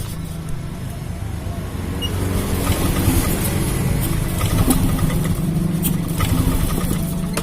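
A Yamaha Lexi scooter is cranked on the starter but fails to fire, a continuous mechanical whirring drone with rattly ticks that grows slightly louder and stays steady throughout.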